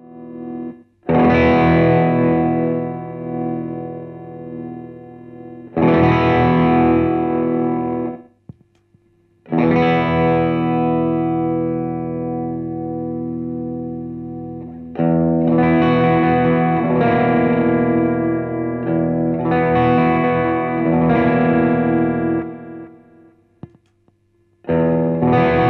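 Electric guitar through a Boss MS-3 multi-effects switcher with overdrive off, noise gate and delay, playing sustained chords in long phrases separated by abrupt gated silences, loud and close with a lingering delay tail.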